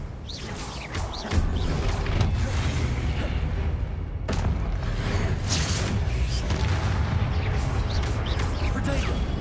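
A Confringo fire blast spell going off in the Hogwarts Legacy video game, a sudden loud explosive burst followed by sustained rumbling crashes and further impacts, with battle noise continuing throughout.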